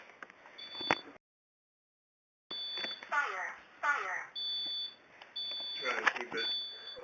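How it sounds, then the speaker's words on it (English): Carbon monoxide detector sounding a loud, high electronic alarm tone in repeated beeping bursts, with a gap of silence, while children talk over it. "Warning, carbon monoxide. Beep, beep, beep, beep."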